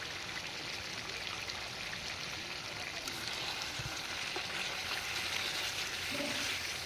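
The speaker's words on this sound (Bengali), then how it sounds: "আদা রসুন বাটাটা দিয়ে চিকেনটাকে খুব সুন্দর করে কষিয়ে নেবে" Chicken sautés with ginger garlic paste in a pan for a chicken curry, giving a steady, dense sizzle and hiss that continues evenly throughout, with no voices.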